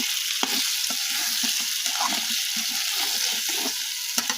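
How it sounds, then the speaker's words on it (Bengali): Pigeon meat sizzles in a pan on a village stove, a steady close hiss of frying broken by intermittent scraping stirs, with no talking. "মেয়ের জন্য কবুতরটা বসাই দিলাম রান্না করতেছি।"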